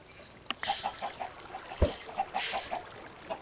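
Soft, repeated clucks from a Minecraft chicken in an evenly spaced rhythm, faint and close, with a couple of brief clicks and hissy game sounds in between.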